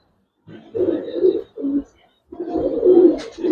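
Pigeons coo nearby in low, throaty bursts, three rolling calls separated by short pauses.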